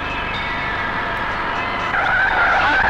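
A car driving fast with tires skidding and squealing in a Bangla movie chase scene, a loud continuous engine roar with a rising high screech of tire squeal in the last second.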